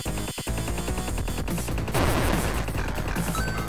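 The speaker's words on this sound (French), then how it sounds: "C'est une big explosion." A destroyed vehicle blows up in the shooter video game Riddled Corpses EX amid dense rapid gunfire. Busy, loud bursts of crackling shots and blasts run throughout, with a heavier surge about halfway through.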